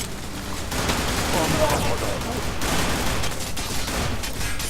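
Loud, continuous rapid gunfire from the online shooter game Zula, a dense stream of overlapping shots that holds steady for several seconds.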